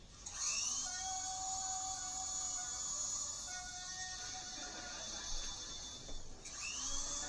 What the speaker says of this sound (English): The chair's spinning around with a drill.